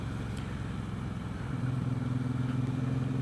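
A 2017 Suzuki Boulevard M109 BOSS motorcycle runs in second gear at low RPM, giving a steady, close, low rumbling drone that firms up and settles into an even hum partway through.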